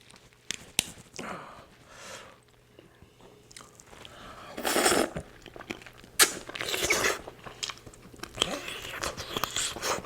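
Close-up chewing of meat wrapped in kimchi, with wet, crunchy bites and smacking that come in irregular bursts and grow louder toward the end, with no talking.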